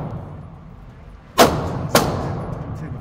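Two sharp gunshots ring out about half a second apart at an outdoor shooting session, each loud and percussive with a brief echoing tail over low background noise.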